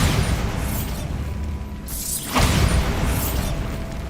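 A Bombarda blasting spell in Hogwarts Legacy sets off a sudden loud explosion partway through, a sharp burst followed by a crumbling rumble over a steady bed of ambient noise, with no talking.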